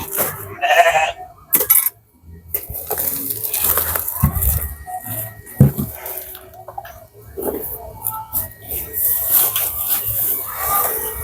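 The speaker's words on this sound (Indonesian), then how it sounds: "Ini teman-teman besar-besar kambingnya." Large goats on a farm bleat several times in short calls, mixed with rustling, clinks and other farmyard noise, close and fairly loud.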